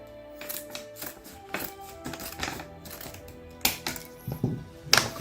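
A dried mango snack package from Thailand is cut open, with a series of crinkly snips, taps and plastic rustles coming in irregular bursts, close and fairly quiet.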